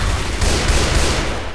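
Gunfire rattles in the zombie shooter Left 4 Dead 2, a loud, dense barrage of rapid shots that blur into a continuous roar for about a second and a half.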